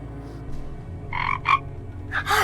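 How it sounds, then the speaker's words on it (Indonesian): A frog croaks in short raspy bursts, two close together then a louder pair, near and distinct over a low background hum, with no voices. "ada kodok"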